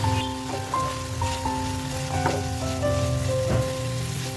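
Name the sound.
chicken frying in a pan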